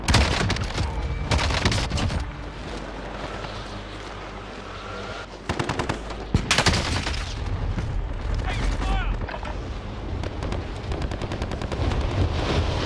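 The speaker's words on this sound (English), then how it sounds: "Stun grenade out." Call of Duty: Modern Warfare combat with a stun grenade blast going off amid dense, loud bursts of rapid gunfire, a brief lull midway, then a sharp bang and renewed shooting.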